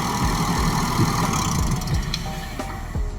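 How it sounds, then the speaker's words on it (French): A car engine idles on petrol before an E85 ethanol kit is switched on, a steady close mid-range rumble with small periodic pulses and a few brief clicks, no one talking. "Le moteur tourne à l'essence, donc le bouton reste en position off."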